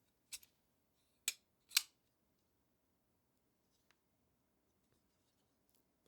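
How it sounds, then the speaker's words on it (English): Three crisp mechanical clicks in quick succession from an Oz Machine Co Roosevelt XL folding knife being flicked open, close and sharp against a quiet room, followed by a few faint ticks. "It's so easy to open this knife."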